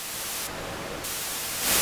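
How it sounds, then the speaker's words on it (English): A Roland AIRA System-1 synthesizer plays steady hissing noise, switching between white and pink noise tones, loud and continuous with a brighter burst at the end and no voices. "we've also got noise, pink and white noise."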